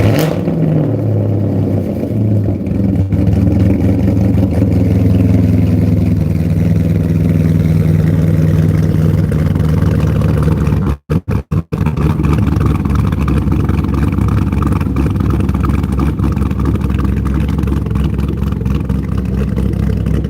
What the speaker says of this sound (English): if you guys want to hear a cam chop today, we will let Greg start his C6